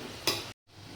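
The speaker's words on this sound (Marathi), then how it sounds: "आता हे पण वडे पूर्ण तळून घेऊया चांगले" Potato and semolina vadas deep-frying in hot oil give a steady, close sizzling hiss with a loud burst of bubbling near the middle, then a sudden brief silence before the quieter frying returns.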